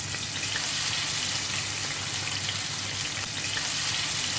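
Seasoned fish fries in hot oil in a pan, giving a steady, close, dense sizzle and crackle that holds at an even level throughout with no talk.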